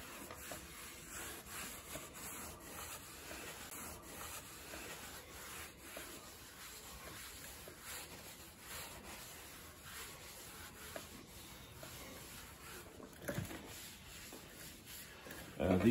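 Soft, steady rubbing as mink oil is worked into the leather facing of a 1970s–80s Porsche 911 Carrera 3.0 seat, a continuous faint scrubbing texture that stays close and quiet for the whole stretch.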